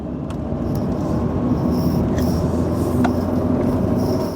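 Car driving around a roundabout under some power, a steady loud rumble of engine and road noise from inside the cabin with a few faint ticks and clicks.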